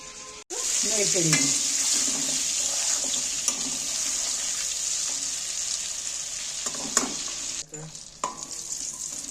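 Chicken pieces sizzle steadily in hot oil for a sweet and spicy Korean chicken, a continuous close frying hiss with a few clinks and stirring knocks scattered through it.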